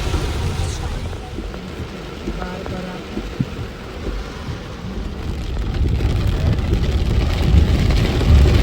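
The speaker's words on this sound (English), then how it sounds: "as we entered the city it started raining heavily" Heavy rain drums on a car while driving into a city, a dense steady roar with low road rumble that swells louder toward the end, close and continuous.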